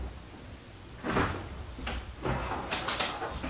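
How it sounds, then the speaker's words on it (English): A door bumps and knocks as someone walks in at home, with several thuds and clatters of the door moving, fairly close and fairly loud, and no talking. "When she walks through that door"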